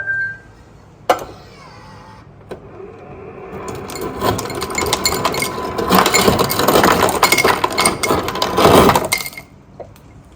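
Large ice cubes clatter out of a refrigerator dispenser in a long, dense stream of clinks and knocks, close and loud, after an opening click and a short pause, with no talking.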